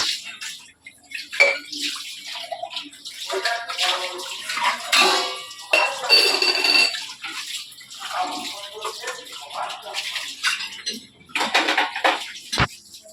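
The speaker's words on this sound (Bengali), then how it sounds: "ঘুম থেকে উঠে বাসনটা ধুলাম" Dishes being washed at a sink: running water splashes in bursts with clinks of metal pots and utensils, close and intermittent, with a sharp knock near the end.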